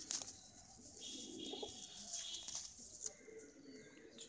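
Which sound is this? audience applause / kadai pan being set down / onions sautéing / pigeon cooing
pigeon cooing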